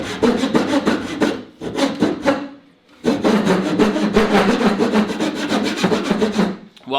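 A hand saw rasps through wood in fast, rhythmic strokes, cutting hooks for Akro-Mils storage bins, with one short pause before the steady sawing resumes.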